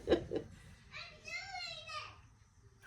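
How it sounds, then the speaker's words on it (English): Somewhere in a home, a baby hollers in the background, a faint rising-and-falling wail lasting about a second, preceded by a couple of short faint sounds. "I know y'all can hear that baby hollering in the background."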